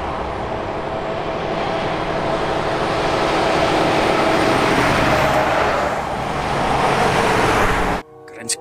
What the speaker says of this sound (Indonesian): Truk kontainer.